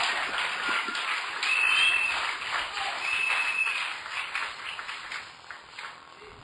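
A church congregation applauding, a steady wash of many hands clapping at a moderate distance, rising briefly then tapering, with a couple of faint ringing tones.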